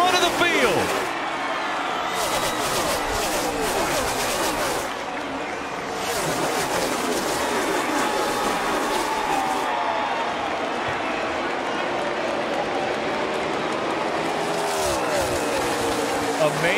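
Dense NASCAR Cup Series crowd of about 60,000 cheering over the roar of 43 stock-car engines at a 2015 championship race, a continuous loud wash of crowd and engine noise with a commentator talking over it.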